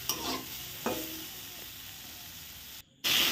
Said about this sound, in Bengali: 2টো মাছ এখনও ভাজা হচ্ছে কড়াইতে